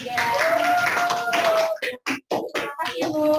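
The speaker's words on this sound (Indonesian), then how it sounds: "beri tepuk tangan untuk kelompok 3." Classroom clapping for a student group during a science lesson, a short burst of scattered hand claps from near students following a stretch of talk and background sound.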